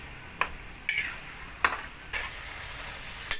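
Fish balls stir-fried with curry paste in a pan, a low sizzle under a few sharp scrapes and clacks of the utensil against the pan, close and fairly quiet, with no talking.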